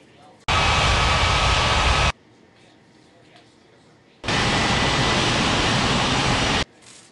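Jet airliner engine roar during takeoff in the Unmatched Air Traffic Control game at Ngurah Rai Bali airport, two loud sustained broadband rushes of about one and a half and two and a half seconds with quiet between.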